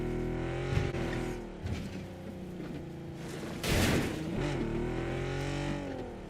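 An armored personnel carrier (BTR) driving in the PUBG battle royale game, a steady engine drone with a tonal hum that rises briefly around the middle, heard alone and fairly quiet.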